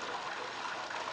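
Bath water runs from a tap, a faint, even rushing gush that continues without break, with no voices.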